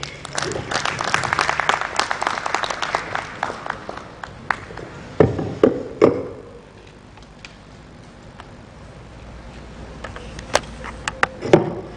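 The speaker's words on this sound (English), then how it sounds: "Another round of applause for Justice Juliet Ibekaku" Audience applause at a conference on financial fraud and cyber crime, after a justice reforms speaker finishes; dense clapping fills the first few seconds, then thins into scattered claps and a quieter stretch before a few more claps near the end.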